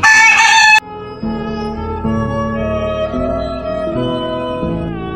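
Desi chickens sick with a virus in winter: one opens with a loud, close crow, then a flock keeps up steady, overlapping clucks and calls, with no talking.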